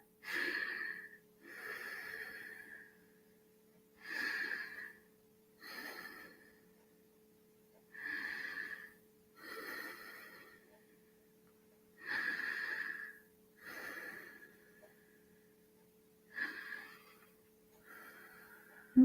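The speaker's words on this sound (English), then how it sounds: "just do some nice breathing into that" Slow, deep breaths taken during a shoulder stretch, each inhale and exhale drawn out and audible through the nose, about a dozen in a steady rhythm, close and quiet with a faint hum underneath.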